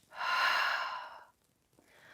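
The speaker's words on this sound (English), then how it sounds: "Notice I'm breathing." A person exhales audibly during a Pilates leg pump exercise on a fitness chair: one long, breathy outbreath close up, then a short fainter breath after a pause.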